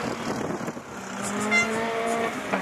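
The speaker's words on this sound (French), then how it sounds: "Ah, il prend le tour à l'extérieur, Bezard." Rallycross Division 4 race cars circuit the track at Lessay, a steady engine drone with rising and falling harmonic tones as cars pass at moderate distance, continuous throughout.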